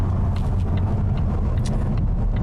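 A 2020 Volvo S90 T6 Inscription AWD rolls along smooth pavement, a steady low road rumble and engine drone from inside the cabin with faint higher tire hiss, no talk.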